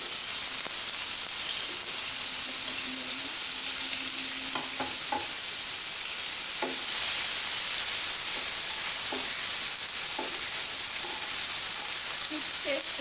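Onions and green chillies frying in a pan, a steady broadband sizzle running throughout with scattered clicks and scrapes from stirring.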